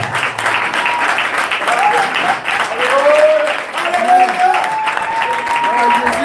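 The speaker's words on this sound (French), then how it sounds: "On acclame le Seigneur Jésus-Christ pour la vie de ce serviteur." Church congregation in Bafoussam applauding during a servants' establishment service, steady broad clapping filling the room throughout, with voices and shouts mixed over the applause.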